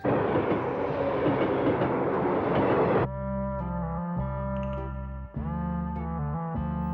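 A train rumbles with steady broadband roar for three seconds, then gives way to a sustained tonal hum and whine as it slows, with a short dip and another tonal swell later; animated cartoon setting.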